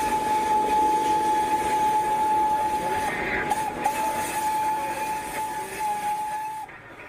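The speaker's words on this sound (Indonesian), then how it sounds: "Wow, ada kereta apinya juga teman-teman." A steady, continuous mechanical whirr with a thin high whine from a Thomas the Tank Engine toy train motor running along its track, close by and fairly constant.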